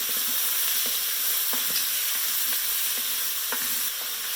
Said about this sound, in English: I'm just going to mix everything thoroughly